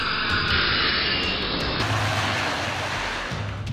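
Firefighting aircraft fly overhead during a wildfire on Jack London's mountain, a loud, steady engine roar that fills the whole moment without any talk.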